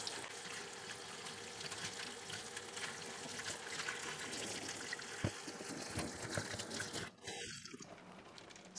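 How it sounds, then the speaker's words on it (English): Water runs and splashes over leca clay balls being rinsed during houseplant care, a steady soft trickle and gush with occasional drips and light clinks, faint and close, with no talk. "I am washing the leca and making sure that comes off."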